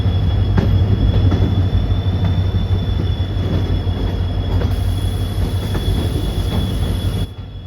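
A diesel locomotive train running on the Mangalore–Subrahmanya Road line, with loud, steady rumble, rolling wheel noise and squealing wheels, heard from on board, the roar holding throughout before easing slightly at the end.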